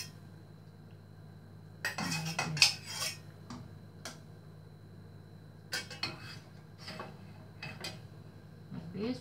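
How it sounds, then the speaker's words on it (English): A spoon stirring Pak Min Klaten chicken soup in a pot, giving a few scattered clinks and scrapes of metal against the pot in two short bursts over quiet background hum. "Like this, we stir,"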